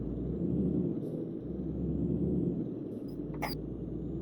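A Scania truck in the Euro Truck Simulator 2 game rumbles with a steady, deep engine drone, and a brief hiss of air bursts near the end.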